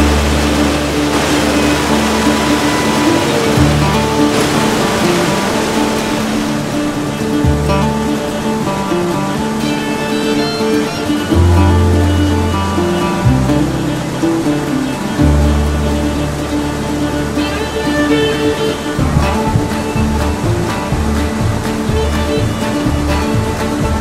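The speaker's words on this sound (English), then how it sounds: "Tight little V upriver I gotta hit, and then monster standing waves." River rapids with a tight V and large standing waves, a loud continuous roar of rushing whitewater close by, with steady surging and no talking.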